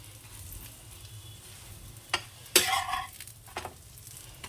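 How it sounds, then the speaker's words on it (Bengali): Onions stirred as they fry in oil in a home kitchen, with a steady low sizzle broken by a few sharp scraping stir strokes and clatters close by; no one speaks. "এইভাবে নাড়িয়ে নাড়িয়ে দিলে ভাজা হয়ে যাবে"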